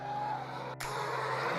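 An LS3-powered drift car spins its tires at full throttle on a drift course, a steady engine drone with tire noise, briefly cut by a sharp break before the roar resumes.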